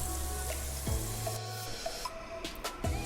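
Two large sliced onions sizzle steadily in hot cooking oil for chicken korma, a continuous close frying hiss with occasional stirring scrapes and clicks and no talking.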